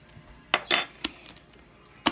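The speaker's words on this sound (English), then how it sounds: "Let me clean off my spoon" A spoon is cleaned of homemade slime, with a handful of sharp metallic clinks and taps spaced irregularly, close and moderately loud against a quiet background with no talking.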